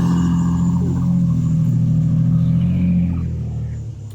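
A Jeep Grand Cherokee drives past close by, its engine a steady low rumble that swells and then eases away as it goes.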